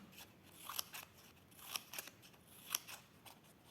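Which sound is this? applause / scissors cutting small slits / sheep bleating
scissors cutting small slits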